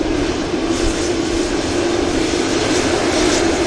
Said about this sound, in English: Etihad 787-9 Dreamliner heading back to Abu Dhabi.